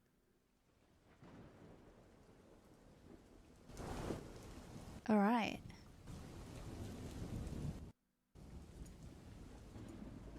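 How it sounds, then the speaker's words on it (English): A dark, eerie thunderstorm brings steady rain hissing throughout and a low rumble of thunder swelling midway, and a voice briefly speaks over it before the rain cuts out for a moment and then resumes. "Lovecraftian thunderstorm."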